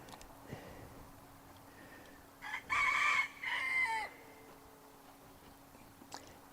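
A hen in a backyard pen lets out one loud, strained crowing call in two bursts near the middle, with a quiet steady hum and faint distant sounds around it.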